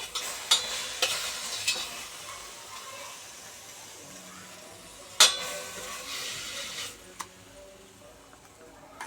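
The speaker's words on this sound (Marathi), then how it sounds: "त्याला थोडंसं असं हलवून घ्यायचं" Cooked spinach is stirred in a hot pan with oil, giving a faint steady sizzle with a few sharp scraping clicks of the spoon against the pan.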